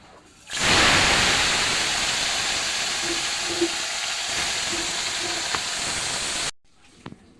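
Fish frying in oil gives a loud, even hiss that starts abruptly, holds steady for about six seconds, then cuts off into near silence with a faint clink.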